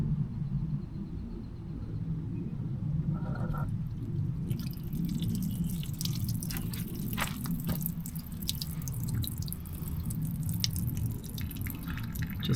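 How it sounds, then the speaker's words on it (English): Water drips from a cleared sunroof drain on a Volkswagen MK6, with scattered small drops and splashes over a steady low rumble of background noise. "you'll start to see it dripping out"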